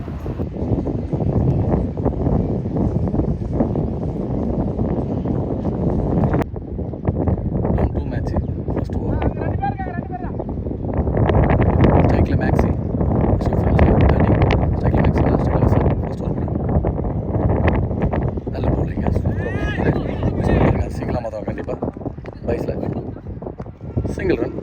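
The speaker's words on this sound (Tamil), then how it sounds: "காற்று பயங்கரமாக அடிச்சிட்ருக்கு." Strong wind batters the microphone in a constant heavy low roar during a local cricket tournament match, with a commentator talking steadily over it.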